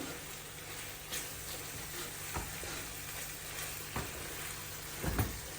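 Tomatoes cook in a hot pan, giving a steady, even sizzle throughout, with a few soft clicks and knocks from a utensil scattered over the fizzing.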